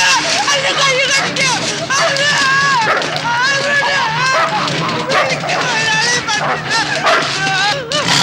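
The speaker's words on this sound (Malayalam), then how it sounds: "മുതലാളി, പട്ടി വിളിക്ക്, അല്ലെങ്കിൽ കുട്ടനെ കടിക്കും." In a Malayalam film scene, a dog barks amid loud, agitated shouting voices and commotion, with the barks partly buried under the overlapping cries.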